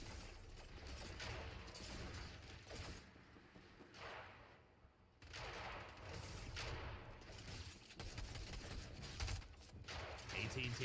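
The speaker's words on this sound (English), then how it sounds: "Oh, good shots here from Elsa" Rapid bursts of gunfire from a Fortnite match during an FNCS finals endgame, continuous and loud throughout, mixed with game effects and a commentator talking over the action.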